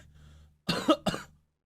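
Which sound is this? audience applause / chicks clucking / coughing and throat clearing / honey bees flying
coughing and throat clearing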